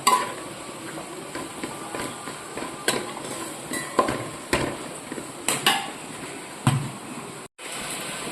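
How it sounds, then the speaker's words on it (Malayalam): A spoon scrapes and knocks against a pot while stirring a thick masala, tomato and onion mix with pork masala, giving a series of close, uneven clatters over a faint sizzle. "എല്ലാം കൂടെ നന്നായിട്ട് മിക്സ് ആക്കുക."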